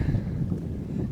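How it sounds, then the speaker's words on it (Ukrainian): Gusty wind buffets the microphone at a carp fishing spot with low, rumbling bursts over a short stretch, close and fairly loud, with no speech. "Вітер нам допомагає трохи"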